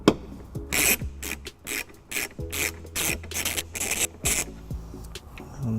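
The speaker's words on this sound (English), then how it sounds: "we're going to take a 10mm socket and remove top bolt here and the bottom bolt there" A 10mm socket wrench removes taillight bolts on a 2015 Dodge Grand Caravan, making a series of close, sharp ratcheting bursts in uneven rhythm, separated by short pauses and small metallic knocks.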